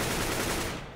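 Rapid automatic gunfire rattles out in a burst during a Counter-Strike duel, dense and loud before quickly trailing off.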